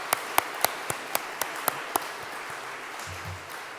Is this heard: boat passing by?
no